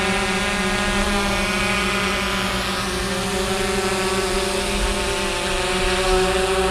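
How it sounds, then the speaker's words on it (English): An Autel EVO drone hovers and flies outdoors in a light crosswind, its propellers producing a steady, fairly close buzzing whine with layered tones that holds without pause throughout, with no talking. "the drone really does well with that"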